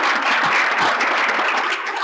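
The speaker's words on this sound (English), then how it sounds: "So if we can give them a quick round of applause." An audience at a Law Day lunch gathering claps steadily for about two seconds, a dense and even round of applause with no voices on top.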